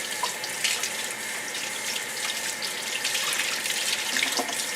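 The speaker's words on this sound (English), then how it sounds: "you want to get all the water in the leaves" Tap water runs steadily into a sink while an artichoke is rinsed under it, a constant close hiss and splash with small shifts as the leaves are spread open.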